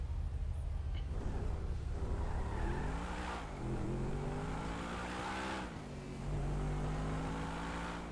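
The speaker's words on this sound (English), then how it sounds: "Watch where you're driving, Stevie" A rugged off-road brawler car driven in a video game, its engine droning loudly and steadily with revs rising and falling through gear shifts, plus faint tire noise, with no talking.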